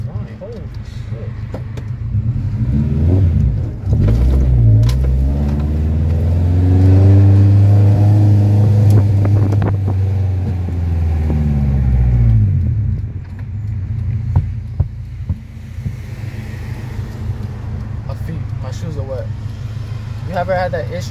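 An Acura Integra engine revving hard through exhaust headers, a loud close rising and falling roar with harmonic sweeps, building then easing off, with people talking over it.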